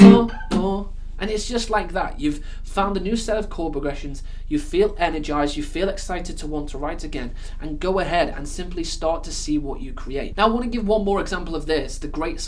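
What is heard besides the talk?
No distinct noise like a dog, phone or traffic.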